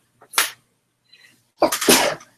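A sharp, close sneeze bursts out, then after a short pause a second loud, breathy burst follows.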